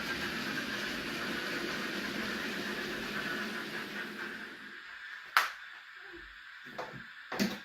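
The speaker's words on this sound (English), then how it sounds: "we're going to stop these engines, so just get the tank engine there" Model railway express and tank engines run with a steady mechanical whir and rumble, then stop, leaving quiet with a few sharp clicks.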